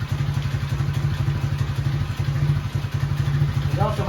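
A quad ATV engine runs rough and shakes hard, its carbureted motor not yet fully warmed, giving a loud, close, rapid pulsing thrum with rattling clatter that holds steady throughout and has a brief voice near the end.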